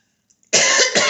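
A single loud, close cough bursts out after a half-second of near silence and trails into a rough, breathy tail.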